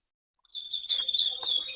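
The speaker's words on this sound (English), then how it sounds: "your birds are very loud" Pet birds chirp loudly in quick, high, continuous tweets that start abruptly and keep going close to the microphone.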